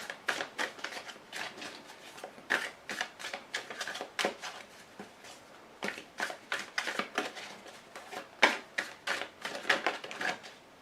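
Tarot cards being shuffled close up, a long run of quick, crisp riffling and slapping bursts in an uneven rhythm, with no talking.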